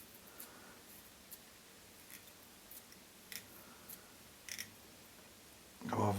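Small scissors snip dubbing on a dry damsel fly being tied, a string of quiet, close, crisp clicks spaced about every half second to a second, followed by a brief louder rustle at the end.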